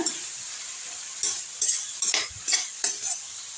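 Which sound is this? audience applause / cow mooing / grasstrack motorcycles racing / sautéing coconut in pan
sautéing coconut in pan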